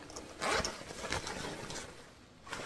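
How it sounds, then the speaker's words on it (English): The zipper on the small pocket of a sewn hobo bag is pulled in a few quick rasping strokes, close and crisp, with no talking. "And our other little fun addition, our zipper pocket."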